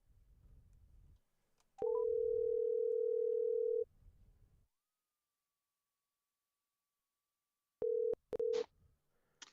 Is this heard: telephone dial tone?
yes